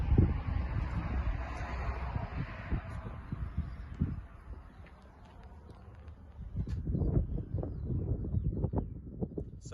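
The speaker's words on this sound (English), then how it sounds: "It is very windy here" Wind gusting across an open memorial site near Pozieres Memorial and Cemetery in France, a steady broadband rush buffeting the microphone, easing briefly midway, then returning with heavier bursts and faint footsteps.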